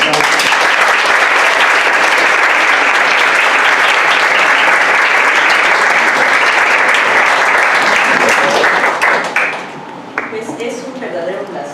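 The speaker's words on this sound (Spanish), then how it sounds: "Vamos a con un aplauso." Loud, dense audience applause welcomes a speaker to a talk, holding strong for several seconds, then thinning to scattered claps as a voice begins speaking.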